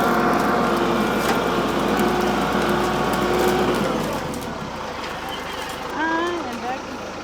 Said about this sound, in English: Gotta get that old chainsaw.